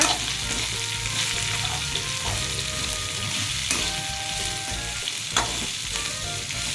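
Broad beans stir-fried in a pan for a Tamil poriyal, a steady loud sizzle with scraping stirs throughout, no talking.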